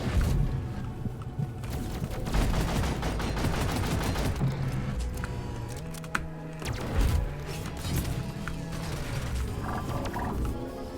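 Turrets firing in the co-op game Deep Rock Galactic, a dense, continuous barrage of rattling shots layered over heavy rumbling game noise that runs loud and unbroken throughout.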